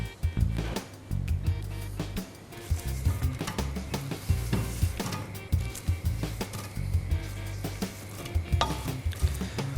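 Onions soften in a frying pan for a wild boar marinade, a steady sizzle with frequent stirring scrapes and clinks of utensil on pan, close and moderately loud.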